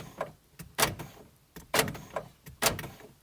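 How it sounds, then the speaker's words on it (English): Lexus IS300 power door lock actuators clunk several times in quick succession, close and distinct, each a short mechanical thump with a faint whir. "That's the automatic locking doors."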